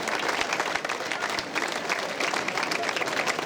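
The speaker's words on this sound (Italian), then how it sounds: "dai, applauso!" Crowd applause at a Sardinian folk festival in Orosei, dense and steady throughout, with scattered voices and cheers mixed into the clapping.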